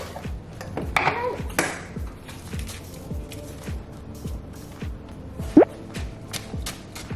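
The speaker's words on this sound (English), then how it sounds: "now I have to put the oats in." Oats poured by the cupful from a measuring cup into a bowl while making toddler breakfast freezer meals, heard as a short dry rushing pour followed by light clinks and taps of kitchenware.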